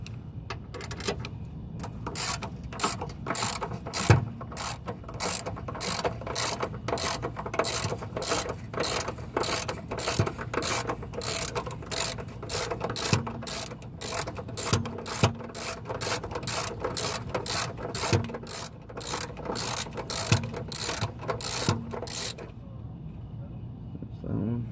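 A ratchet wrench loosening the sway bar bracket bolt on a 1991 Subaru Legacy Turbo, with long runs of quick metallic clicks in steady bursts close to the microphone, faint talk underneath.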